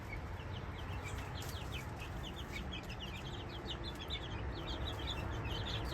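Young chickens cluck and chirp steadily over a dense, continuous farmyard background, with short bird calls scattered throughout, a young rooster among them.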